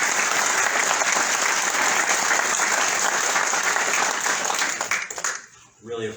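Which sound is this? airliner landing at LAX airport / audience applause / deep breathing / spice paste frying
audience applause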